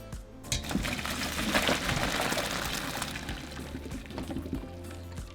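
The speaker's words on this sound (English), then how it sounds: "So now we're just going to strain the water and remove the onion and the bay leaves." Water from cooked macaroni, boiled with onion and bay leaves, pours out through a strainer as a steady, close splashing gush that tapers off slightly toward the end, with no voices.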